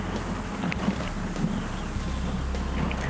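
Steady wind buffets the microphone outdoors on a buffalo hunt, a continuous low roar and rumble with no break, loud and close.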